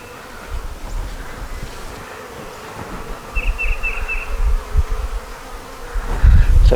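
Honey bees crawl and buzz on a hive frame holding pollen, nectar and drones, a steady close hum with brief louder buzzing passes and handling noise near the end.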